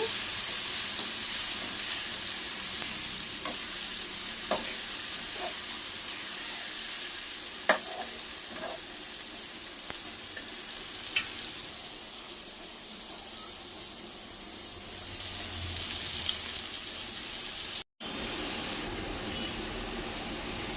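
Onions frying in a pan for a thick chicken curry gravy, giving a steady close sizzle throughout with a few sharp pops and clicks, and no talking.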